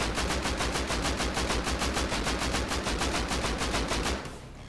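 Sustained automatic fire from an AK rifle aimed at a bullseye target in the video game Rust, a rapid even burst of loud shots lasting about four seconds before cutting off to quiet.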